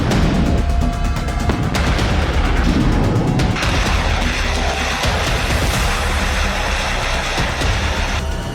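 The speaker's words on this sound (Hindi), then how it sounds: "इसी प्लान के तहत कीव पर धुआंधार मिसाइलें बरस रही हैं।" Missile strikes exploding over Kyiv, Ukraine, during the Russian attack: a dense, loud, continuous roar of blasts and rumbling booms with crackling debris, no clear pauses.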